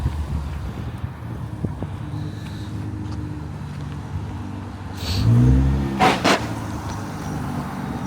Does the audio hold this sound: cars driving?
yes